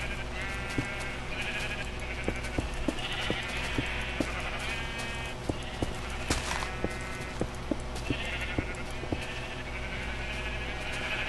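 Blocky sheep in Minecraft bleat repeatedly over a steady game background, with crisp hoof-like clicks ticking at intervals and no talking.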